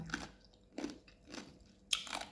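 Someone bites and chews crunchy, crispy fried pork skin (totong). Four or so faint, close crunches come in separate bursts with quiet gaps between them.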